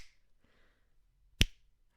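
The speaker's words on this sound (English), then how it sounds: "Oh, that was a good click" A single sharp finger snap, crisp and close, in an otherwise quiet room with a faint earlier rustle.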